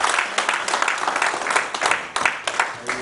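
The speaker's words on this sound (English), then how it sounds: "Give him another round of applause, please." An audience at a sports journalists' convention gives a short burst of applause, a dense wash of clapping from many hands, fairly close and steady with no voices on top.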